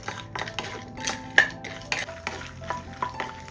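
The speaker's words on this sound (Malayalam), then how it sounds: "ഈ നിലക്കടലയുടെ നിറമൊക്കെ ഒന്ന് മാറി ഒരു ഗോൾഡൻ കളർ ആവുന്നതുവരെ ഒന്ന് ഇളക്കി കൊടുക്കാം" Peanuts roasting in a pan are stirred with a utensil, giving repeated scraping and rattling strokes over a faint dry sizzle. The sound is close and moderately loud, with no voices.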